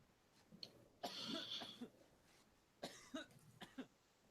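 A person coughs faintly in a quiet room, a short burst of several coughs followed a moment later by a few more spaced coughs.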